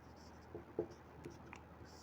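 Chalk or marker writing on a board during a chemistry lesson, a few faint, brief scratching strokes in a quiet room.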